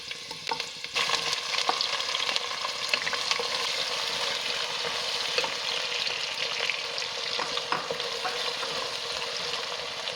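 Three medium onions sliced lengthwise sauté in a pan for Ambur seeraga samba mutton biryani, a close, continuous sizzle broken by occasional clinks and scrapes of stirring.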